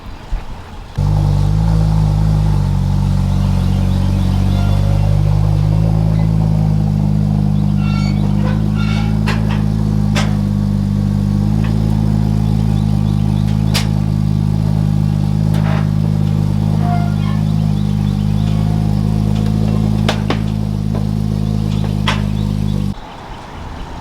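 A Porsche 997 Turbo engine idles and rumbles steadily at close range, with occasional light revs and clanks as the car creeps slowly forward down trailer ramps.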